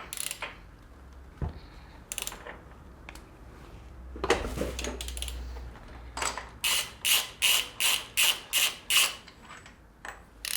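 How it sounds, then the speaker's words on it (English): Socket wrench ratchet loosening the top yoke nut on a Triumph Tiger 800 motorcycle headstock, with scattered metallic clicks and clanks followed by a rhythmic run of about nine sharp ratchet clicks, close and clear with no talk. "there's enough space to get the socket in to get the nut off"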